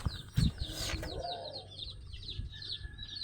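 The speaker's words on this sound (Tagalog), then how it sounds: "Mga kalapatids." Pigeons coo in a soft, rhythmic series of repeated calls nearby, with a few scattered clucks and scuffles among the flock.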